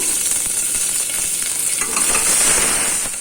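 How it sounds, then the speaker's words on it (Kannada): Loud, continuous sizzling and spluttering of mustard seeds, cumin, dried red chillies and curry leaves in hot oil, swelling slightly near the end. "ಸಾಸಿವೆ, ಒಂದು ಅರ್ಧ ಟೇಬಲ್ ಸ್ಪೂನಷ್ಟು ಜೀರಿಗೆ, 2 ಒಣಮೆಣಸಿನ್ಕಾಯಿ ಹಾಗೆ ಸ್ವಲ್ಪ ಕರಿಬೇವನ್ನ ಹಾಕ್ಕೊಂಡು ಸ್ವಲ್ಪ ಫ್ರೈ ಮಾಡ್ಕೊಳ್ಳೋಣ"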